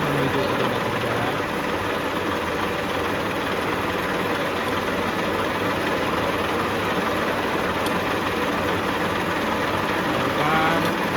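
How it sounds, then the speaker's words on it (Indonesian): A drilling machine runs with a steady, loud mechanical drone while the drill is slowly advanced into the workpiece, continuous throughout with no clear change in pitch and a voice speaking over the machine. "Jadi melakukan dalam pengeboran itu kita maju, kemudian mundur lagi"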